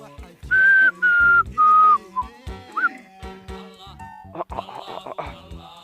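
A person gives three loud, sustained whistles in quick succession to herd camels, followed by softer chirpy sounds and some background clatter.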